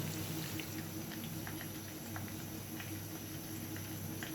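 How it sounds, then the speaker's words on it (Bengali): Pumpkin leaf dumplings (puli) fry lightly in a pan of oil, giving a steady, soft bubbling patter with tiny pops throughout. "সবগুলো পুলি আমি হালকা করে ভেজে নিচ্ছি"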